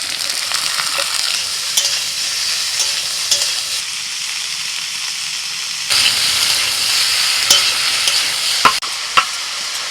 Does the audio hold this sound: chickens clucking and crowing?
no